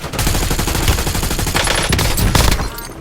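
Rapid automatic gunfire in the Call of Duty Warzone video game, loud sustained bursts of shots close by with a short gap and a final burst.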